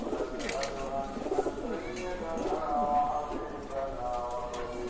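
Pakistani pigeons coo in repeated soft, throaty phrases close by, with a voice also audible.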